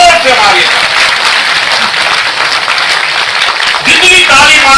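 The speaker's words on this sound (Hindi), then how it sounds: "जितनी ताली मारेंगे उतना उत्तराखंड की महिला का नाम ऊपर जाएगा।" A crowd at a Uttarakhand women's award ceremony claps in a steady, loud, dense roar of applause, with a voice talking over it briefly at the start and again at the end.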